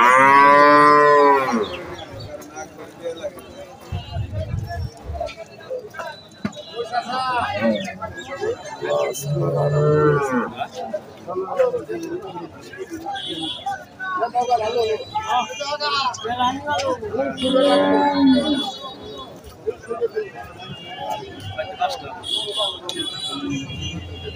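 Holstein Friesian bulls low loudly at a cattle market, with a long moo at the start and further moos through the clip over a busy mix of crowd chatter and market noise.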